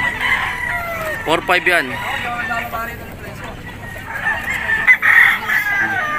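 Gamecock stags at the Bocaue pet market crow nearby with rippling, strained calls and scattered clucks, while someone speaks close by over the birds and market bustle.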